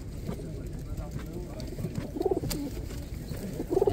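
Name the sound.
pigeons cooing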